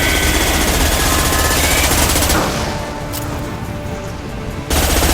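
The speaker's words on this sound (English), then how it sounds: "Firing a high impact shot." Dense rapid gunfire from a Mass Effect 2 battle roars loud and continuous, drops to a thinner mix of shots and effects for about two seconds, then surges back at full intensity.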